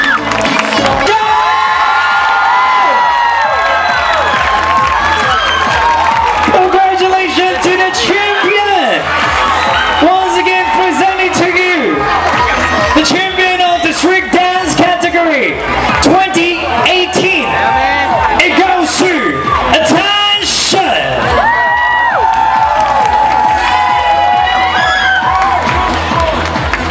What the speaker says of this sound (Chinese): 我们再来个全场热烈掌声，我们尖叫声